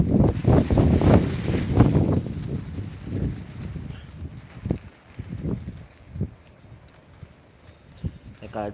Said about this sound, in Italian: Il vento è davvero esagerato.